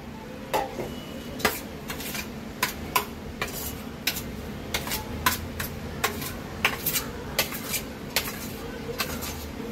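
A spoon stirs hot sugar syrup into a rava and dry-fruit laddu mixture, giving repeated light scraping clinks against a metal vessel at an irregular rhythm, fairly faint and close.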